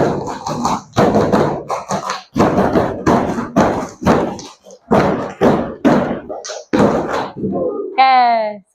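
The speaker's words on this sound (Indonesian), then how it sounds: "satu kali tepuk bubrak terakhir" Group clapping and body percussion in a classroom learning session, a rhythmic sequence of loud sharp claps and thumps in beats with short gaps, ending with a brief vocal call.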